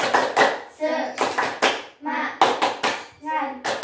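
A group in a guidance session does a spirit clap: sharp, loud bursts of rhythmic hand claps in short clusters, alternating with voices chanting in unison between the claps.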